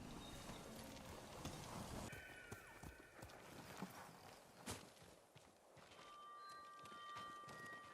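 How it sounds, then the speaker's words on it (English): A horse's hooves clip-clop in the Ghost of Tsushima video game, a steady, fairly quiet stream of rhythmic hoofbeats with a few sharper knocks mixed in. "Good horse."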